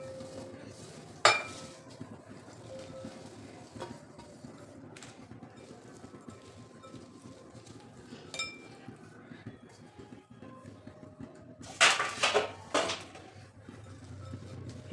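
Chopped red carrots and green chillies are tossed together in a bowl for a spicy pickle, making intermittent clinks and scrapes against the dish and a few louder clatters, with quiet rustling between them.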